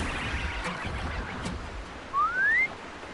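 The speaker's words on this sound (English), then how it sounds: "I wanted to use my whistle." A rising whistle blown by the player character in Horizon Zero Dawn, a single clear upward-sweeping tone lasting about half a second over low ambient game background.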